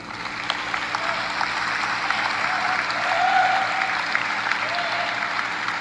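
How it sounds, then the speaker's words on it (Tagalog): Steady applause fills the House chamber after a privilege speech, a broad, sustained patter of many hands at moderate distance, swelling slightly midway and continuing throughout. "Palakpakan lahat."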